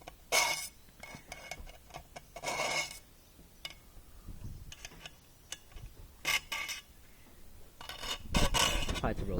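A file drags across a brush cutter chainsaw blade in uneven rasping strokes, close and gritty, with scraping and clinking between passes.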